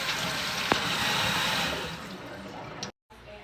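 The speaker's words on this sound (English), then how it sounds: "transfer back to the colander and wash your beans. Just give them like a good little rinse." Water from a tap rushes steadily over dried beans in a colander during a kitchen rinse. The close, even splashing fades near the end and then cuts off briefly.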